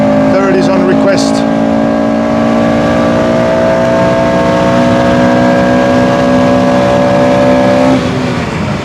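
Honda Civic Type R FN2 with a K20 VTEC engine pulls hard on the Nordschleife, a loud, steady high-pitched engine drone held for about eight seconds before easing off, with voices faintly beneath it.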